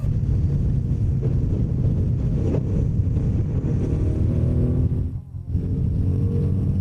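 A Royal Enfield Himalayan 450 dual-sport motorcycle rides along a road. A loud, steady engine drone mixes with heavy wind rush, and the noise dips briefly near the end.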